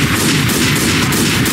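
Dense, continuous gunfire from a pistol in the Left 4 Dead zombie shooter, loud and unbroken across the whole stretch with no talk over it.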